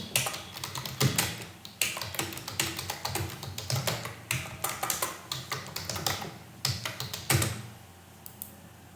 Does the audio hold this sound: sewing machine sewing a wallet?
no